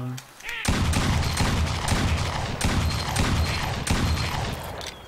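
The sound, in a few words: shotgun gunfire in Duck Dynasty video game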